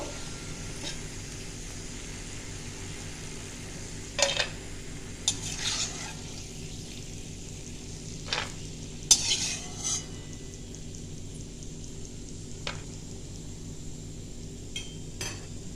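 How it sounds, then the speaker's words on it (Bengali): Quiet frying of peanuts in a pan with occasional scraping stirs and clinks of a utensil, close and otherwise calm. "বাদামটা আমার প্রায় ভাজা হয়ে গেছে"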